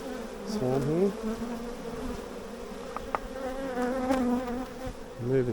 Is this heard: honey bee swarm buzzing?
yes